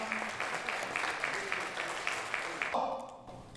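Applause from the audience at the Gumi council inauguration ceremony of the Democratic Peaceful Unification Advisory Council, steady crowd clapping with a faint musical tone beneath, cutting off near the end as a voice begins.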